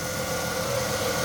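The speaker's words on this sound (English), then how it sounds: "I think I do hear one of the pumps is a little bit on the bearing there" A 1995 Mustang engine, run after sitting for 15 years, with a pump on a worn bearing, gives a steady, even running noise with a constant faint whine above it.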